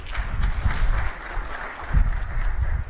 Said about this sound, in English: Ladies and gentlemen, Mr. Lokesh Nara, can we have a round of applause, please?